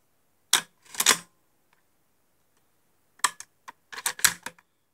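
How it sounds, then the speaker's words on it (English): Beretta 1301 shotgun action worked by hand, a series of sharp metallic clicks and clacks from the bolt and carrier, close and isolated against silence. "The cartridge latch pops out, catches the carrier, bolt locks back."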